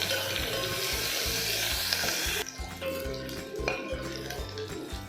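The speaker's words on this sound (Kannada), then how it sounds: "ಹಿಂಗು ಹಾಕ್ಕೊಂಡು ಚೆನ್ನಾಗಿ ಫ್ರೈ ಮಾಡ್ಕೋಬೇಕು" Asafoetida and red chilli tempering frying in a pan for green gram sambar, a steady hot sizzle with a few soft stirring clinks, close and continuous.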